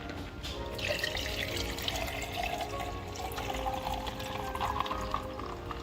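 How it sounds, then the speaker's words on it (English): A mixed drink pours into a glass already holding ice and a straw, making a steady trickling, splashing liquid sound with light clinks, close and moderately loud. "we are going to pour her in"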